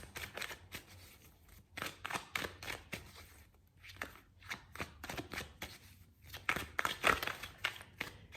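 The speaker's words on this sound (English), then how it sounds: "So let's shuffle some cards." Tarot cards are shuffled by hand in quick crisp bursts of riffling and flicking, close and fairly quiet, with short pauses between rounds and no talk.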